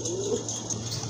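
Pigeons coo softly and continuously at a pigeon farm with local and foreign breeds, a short murmuring burst of low throaty calls heard close by with no talk.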